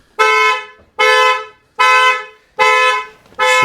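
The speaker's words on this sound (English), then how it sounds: "the alarm's going to be loud." A Volkswagen Tiguan car alarm blares in loud, evenly spaced horn-like blasts, five bursts repeating about once a second, close by with no talking.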